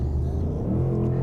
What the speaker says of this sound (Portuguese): Só vou fazer uma ultrapassagem.